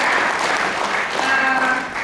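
A seminar audience claps for the speakers, a brief, steady burst of clapping at moderate loudness.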